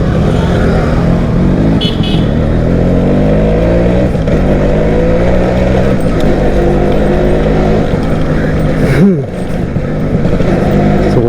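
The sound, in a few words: Suzuki AX 100 motorcycle engine running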